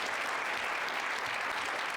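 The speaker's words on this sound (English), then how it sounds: "go on, give it a clap" A conference audience at a chiropractic congress applauds, a brief, dense burst of many hands clapping heard from a distance and fairly faint.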